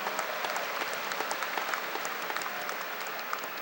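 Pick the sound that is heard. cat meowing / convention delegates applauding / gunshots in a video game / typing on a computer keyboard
convention delegates applauding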